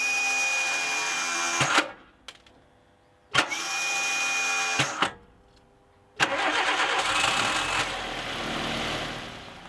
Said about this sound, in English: managed to convince the engine to fire even though the starter motor was on its last legs